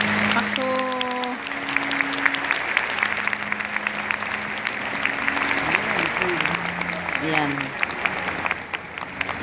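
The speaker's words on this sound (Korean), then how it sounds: "성수를 하사해 주신 참부모님께 여러분 다시 한번 감사의 박수 올려주시기 바랍니다" Steady audience applause in a hall during a mass wedding ceremony, dense clapping continuing for several seconds while a voice speaks and a sustained tone plays over it.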